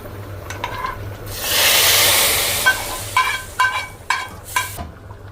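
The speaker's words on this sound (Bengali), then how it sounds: "এই পর্যায়ে আমি এই যে বাগারটা দিয়ে দিচ্ছি" Hot garlic tempering (baghar) hits the pot with a loud hissing burst that swells and fades over a second or so, followed by several scraping stirs against the pot.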